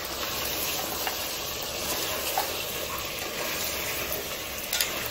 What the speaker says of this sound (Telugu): ఇప్పుడు ఇదైతే వేగుతుంది కదా.